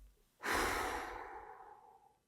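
A single long, breathy inhale and exhale taken during a pause in speaking, close and soft, with a gentle airy rush that slowly tapers off.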